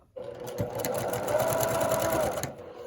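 A sewing machine stitches a Bargello quilt in one steady, close, loud run lasting nearly three seconds, with a rapid mechanical rhythm and no talking over it.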